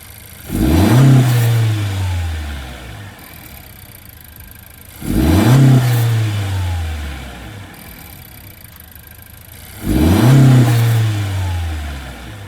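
A 2019 Honda Accord engine with a Takeda aftermarket air intake revs three times with sharp throttle blips and whooshing intake noise, each rising quickly then falling back to a low idle.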